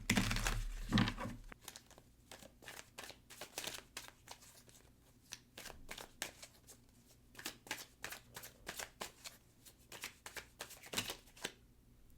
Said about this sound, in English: watch the cards shuffle and come out in real time